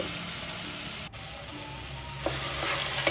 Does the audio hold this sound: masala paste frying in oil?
yes